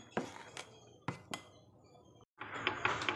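A spoon stirs fermented ragi dosa batter in a vessel, with a few distinct metallic clinks and scrapes against the sides, separated by quiet pauses and ending in denser rattling, with no talk.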